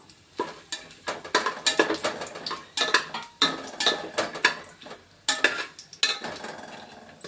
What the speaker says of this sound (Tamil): இப்போ இந்த ஹோல் ஸ்பைசஸை போட்டு ஃப்ரை பண்ணணும்